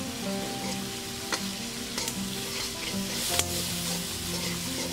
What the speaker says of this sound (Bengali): খুব ভালো করে আমি মশলাগুলোকে কষিয়ে নিচ্ছি। এখন আমি দিয়ে দিয়েছি ধনিয়ার গুঁড়া।